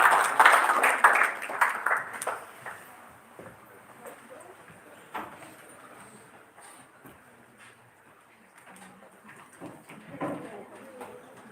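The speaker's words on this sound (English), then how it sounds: "Please give a huge round of applause for Ms. Momita Burman ma'am." An audience at a live pharmacy college event claps: dense, loud applause at the start that thins into scattered claps and fades under a murmur of voices.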